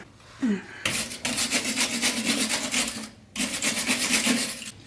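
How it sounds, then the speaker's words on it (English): Wire brush scrubbing rust off the steering stabilizer of a 2000 Jeep XJ, a loud, steady rasping scrape in two sustained bursts with a short pause between, close up. "This one's pretty rusted, so we're gonna use a wire brush to clear it off a little bit"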